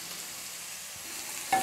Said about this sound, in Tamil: இப்போ கொஞ்ச நேரம் காய் நல்லா வதக்கி விடுங்க.